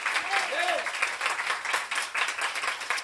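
A church congregation applauding during a Sunday sermon, a sustained burst of many hands clapping with some voices mixed in, loud and steady throughout.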